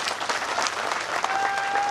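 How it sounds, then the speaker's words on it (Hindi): A rally crowd at the BJP Parivartan Yatra in Alwar city claps hard for a special guest, a brief burst of thick, continuous applause lasting about two seconds. "उनके लिए भी जोरदार ताली बजाओ।"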